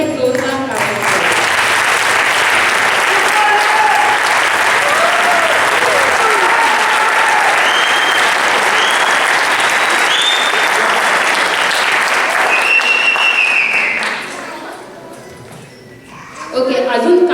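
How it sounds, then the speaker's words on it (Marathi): A large audience gives loud, sustained applause at a stage event. The clapping stays dense and even for most of the stretch, then fades toward the end. "तर त्यांच्यासाठी एक जोरदार टाळ्या"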